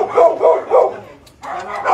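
Dog barking in a street setting, a run of four or five loud, close barks in quick rhythm with a brief pause, set against background chatter.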